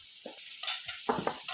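Thinly sliced onions going into a pan, with soft intermittent sizzling and a few stirring scrapes in short bursts, fairly quiet and with no talking.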